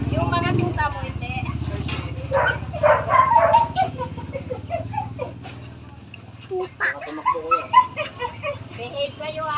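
Puppies whimper, yip and give small barks, close by and repeated, while people talk over them throughout.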